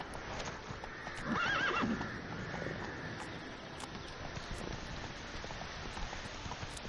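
Geralt's horse Roach in The Witcher galloping with rhythmic clip-clopping hooves and one clear neigh, heard over a steady wash of rain.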